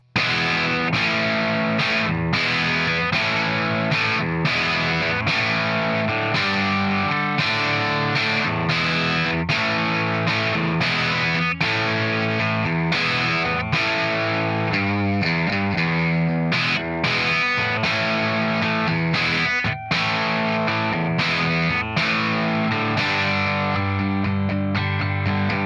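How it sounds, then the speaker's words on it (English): Distorted electric guitar solo, played loud and continuous with driving rhythm and sustained bent notes throughout, no talking. "we go to the guitar solo. And that sounds like this."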